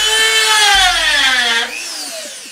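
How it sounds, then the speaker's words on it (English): Dremel rotary tool carving an owl face, a loud close whine whose pitch glides down as the bit is pushed into the material, then drops in level and continues with a faint grinding tail. "if you actually push the Dremel in"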